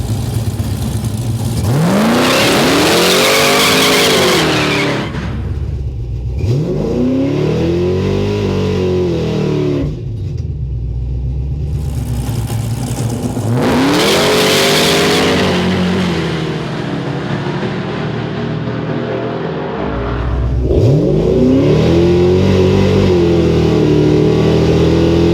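The 1000 HP Man Van street races a 1955 Chevy on the road, with loud, close engines revving hard in repeated surges, each rising sharply through the gears and then dropping away into brief quieter gaps.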